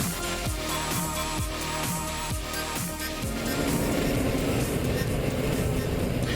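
Stock race cars in the Mid-American Stock Car Series line up for the Vercauteren Memorial at Wisconsin International Raceway near Green Bay, with rhythmic thumping giving way to a dense, steady engine roar.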